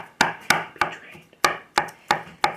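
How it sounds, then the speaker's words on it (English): A knife chops canned pineapple repeatedly on a cutting board, about eight crisp knocks in an uneven but steady rhythm, close and fairly loud. "take a Frenching knife and just give them a chop"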